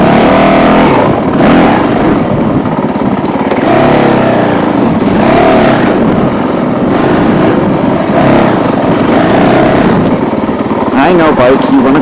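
A Honda CRF450L motorcycle engine rumbles loud and close, with revs surging and easing, while a person speaks over it.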